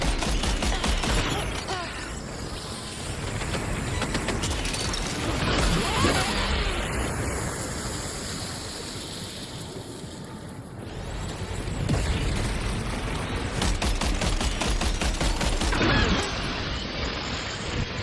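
Sustained gunfire and explosive crashes in the video game Death Stranding 2, dense bursts of shots and booms layered over mechanical clatter, loud and continuous throughout with brief lulls.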